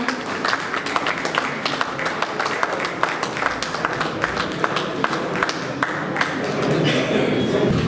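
A crowd applauds after the Darjeeling Hill Marathon 2021 is announced, giving steady, dense clapping that swells slightly toward the end, with faint voices mixed in.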